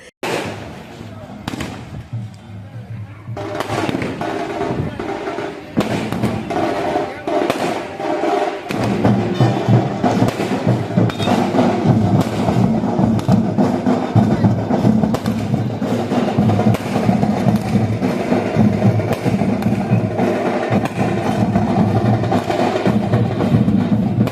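Firecrackers set off by party workers celebrating a BJP town panchayat election win, a dense, loud, continuous crackle of rapid bangs that intensifies partway through and keeps going, with voices mixed underneath.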